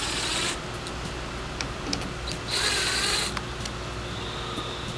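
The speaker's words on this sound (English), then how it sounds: "So all you have to do is remove the 2 screws on the inside" A screwdriver works the two screws loose on the inside of a Weiser doorknob on a steel door, giving a few close, brief scraping and whirring bursts over a steady low room hum.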